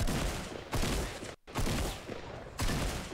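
Video game gunfire, loud rapid bursts of automatic shots in several blocks separated by brief gaps, close and dense.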